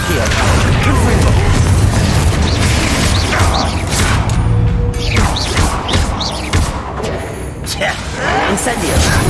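Hogwarts Legacy combat with a Confringo blast spell, loud booming impacts and mechanical crashes layered in dense game noise, with repeated thuds throughout and a voice speaking over the action.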